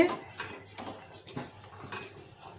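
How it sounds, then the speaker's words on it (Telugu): A spoon stirs custard powder into milk in a pot for a bread sweet, with repeated soft scraping and clinks of metal against the pot, close and fairly quiet, with no talking. "ఈ పాలు వేసి కలుపుకుందాం ఉండలు లేకుండా కలుపుకోవాలి"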